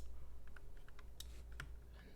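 Quiet computer keyboard taps and mouse clicks at a desk during 3D modeling work, a faint, sparse scatter of light clicks over low background hum.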